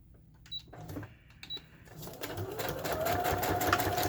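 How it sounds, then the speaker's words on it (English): A sewing machine runs a zigzag stitch through collaged coffee-dyed parchment paper, with a few quick clicks followed by a steady, close mechanical whir. "we're going to put a little bit of a zigzag stitch in here"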